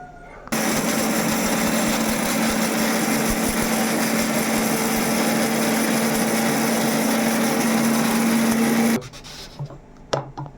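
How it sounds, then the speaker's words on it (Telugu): A kitchen mixer grinder whirs steadily and loudly for about nine seconds, grinding ingredients to a powder for a raw prawn pickle, then cuts off, leaving a few faint knocks. "అయితే మిక్సీ పట్టేసుకుందాం"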